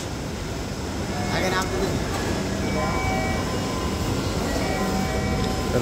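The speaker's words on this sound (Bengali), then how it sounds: "এই যে মেট্রো রেল আমাদের সামনে এসে পৌঁছেছে" A metro rail train pulling into a station, a loud steady rumble with squealing brake tones and clattering, while people talk nearby.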